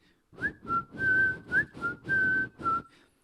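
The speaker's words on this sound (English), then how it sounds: "There's a whistle part that's like..." A person whistles the melody of a song, seven clear sustained notes in a short bouncing phrase, close and alone with no talk.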